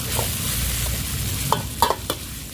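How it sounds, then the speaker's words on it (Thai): Chili paste with mackerel being stir-fried in oil, a steady sizzle with a few sharp spatula scrapes against the pan near the end, close and fairly loud with no talk. "แล้วก็ผัดไปเรื่อย ๆจนให้น้ำมันเขาแห้งเลย"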